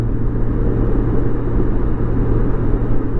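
Honda Goldwing motorcycle engine while riding, a steady, loud low rumble with wind-like whir and no clear gear changes throughout.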